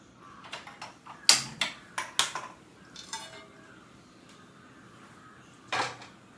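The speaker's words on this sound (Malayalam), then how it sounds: "ഇനി നമ്മൾ ഇതുണ്ടാക്കാനുള്ള ദോശക്കല്ല് വയ്ക്കുക അല്ലെങ്കിൽ ദോശച്ചട്ടി" An iron dosa pan set onto a kitchen stove, heard as a string of sharp metallic clanks and clatters in quick bursts, then a pause and one final clang.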